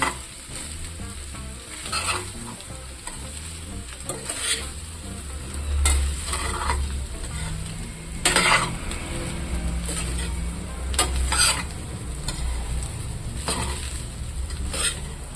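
Sweet corn fried rice stirred in a hot pan, steady sizzling broken by repeated scraping strokes of a spatula against the pan every second or two, close and moderately loud.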